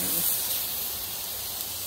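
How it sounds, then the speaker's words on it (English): Steam hisses steadily off freshly cooked coral trout, a close, even broadband hiss lasting the whole moment, with faint background sounds and no clear talking. "Did that steam come off?"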